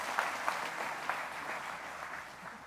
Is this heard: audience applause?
yes